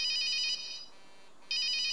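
Phone ringtone in a horror video game, a bright electronic melodic ring that plays loud for about half the clip, drops to a quiet gap, then resumes strongly near the end, with no talking.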